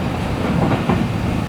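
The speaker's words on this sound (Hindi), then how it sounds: "आराम से ट्रेन हमारी पहुंच रही है जी नवाबशाह रेलवे स्टेशन पर।" The Karachi Express passenger train rolls along broad-gauge rails near Nawabshah in Sindh, a steady loud rumble with faint wheel clatter heard from inside the carriage, without talk.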